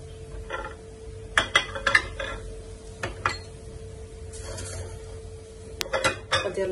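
Onion and filling sauté in a pan, with intermittent clinks and scrapes of a utensil stirring against the metal over a faint, low sizzle.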